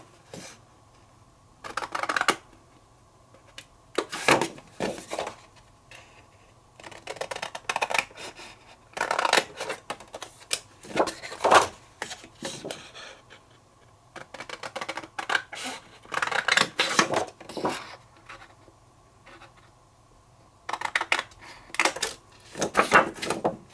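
Large Tim Holtz scissors cut card pieces along drawn lines, giving a run of crisp snipping bursts in quick clusters with short pauses between them. The snips are close and fairly loud, and no one speaks.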